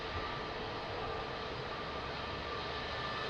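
Airliner engines spooling up for takeoff on runway 02 at Lisbon Airport, a loud, steady broadband roar with a faint whine on top, continuous throughout.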